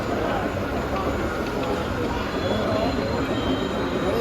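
An O scale model train rolls along a layout at the York TCA Fall Meet 2024 train show, giving a steady, continuous rumbling and clattering hum with faint squeal, heard close and even over hall chatter.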